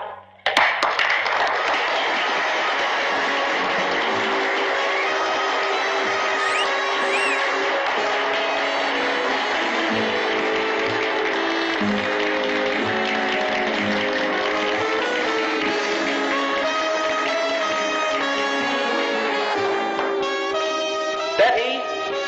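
A theater audience claps steadily and loudly for contest finalists, a dense continuous wave of applause filling the room for over twenty seconds before trailing off.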